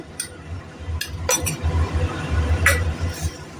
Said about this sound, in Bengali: দিয়ে এবার লো ফ্লেম করে একটু নাড়াচাড়া করব